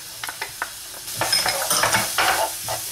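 Garlic sautés in hot oil for siopao asado filling with a loud, bright sizzle that swells after a second. Stirring scrapes and clicks sound close by. No one speaks.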